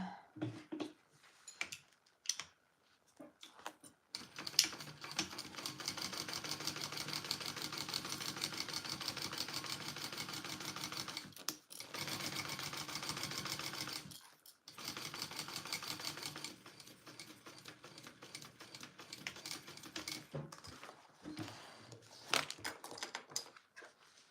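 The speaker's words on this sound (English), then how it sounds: "you're just going to take and sew it from one edge to the other." A sewing machine stitches a seam along a Lettie Mini Bowler Bag, running in long continuous bursts with brief pauses between passes, steady and fairly close.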